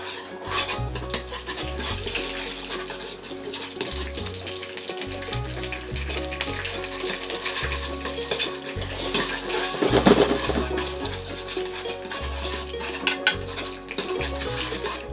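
Meat being stirred and fried in a pan on an LG DIOS induction range, with a steady broadband sizzle and repeated scraping, clattering stirs throughout, including a louder burst midway, and no talking.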